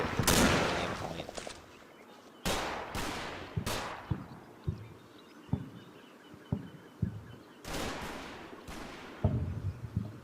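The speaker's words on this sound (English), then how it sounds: "this machine gun crew. Let's put some fire over there." Bursts of machine gun fire from a crew in the Normandy wargame Combat Mission: Battle for Normandy, loud sharp volleys separated by scattered single impacts and distant thuds, with no talking over it.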